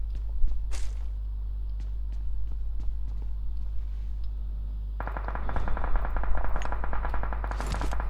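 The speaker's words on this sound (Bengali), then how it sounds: "এইগুলা গুলি আসছে আমার সামনে।" Rapid bursts of gunfire in the mobile battle-royale game PUBG Mobile, sharp repeated shots over a constant low hum, growing denser and louder in the second half.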